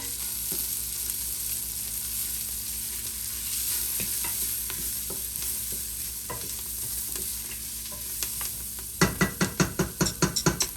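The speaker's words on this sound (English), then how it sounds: "give it a good stir" A spoon stirs quinoa and beans chili in a sizzling pot, steady frying hiss underneath, ending in a run of rhythmic scraping knocks as the stirring speeds up.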